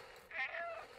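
A cat in the video game Stray gives a single soft, drawn-out meow lasting about half a second, faint against a quiet background.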